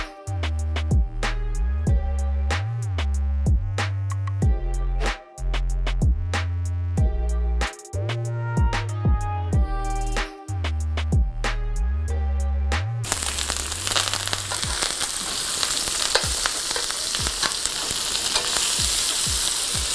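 A steak fries in hot oil while being basted and flipped, with rosemary and thyme in the pan. Music plays for the first part, then a loud, steady sizzle and crackle takes over, close up.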